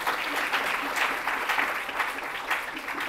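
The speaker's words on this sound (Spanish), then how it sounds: "Así que un aplauso para Casilda." An audience claps for Dr. Casilda Ávila at an education talk, a dense, steady wash of applause that holds at even strength throughout, with no voices over it.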